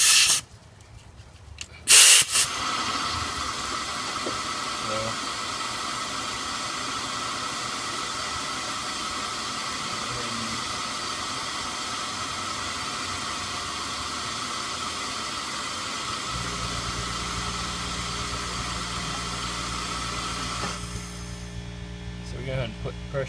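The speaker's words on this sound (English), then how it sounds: "Go ahead and put pressure on the cylinder here." A continuous airy hiss from a pressure tester forcing air into a cylinder of a 1991 Subaru Legacy EJ22 engine with an overheating fault, steady and close, with a low hum joining near the end and a brief thump at the start.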